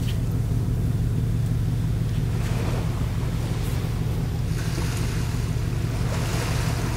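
Steady rush of sea waves rolling in off La Gomera or Tenerife, Spain, heard close with a constant low roar and gusts of wind buffeting the microphone.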